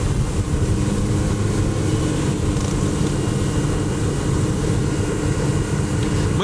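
An ALUMA Storm 477 motorboat with a hydraulic jack plate roars at a constant high pitch while planing at cruising speed, around 4,300 rpm, with loud steady rush of wind and water and no pauses.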